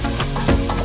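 Mushrooms frying in oil in a pan with onions, peppers and celery, giving a steady close sizzle with soft stirring clatter, no voices.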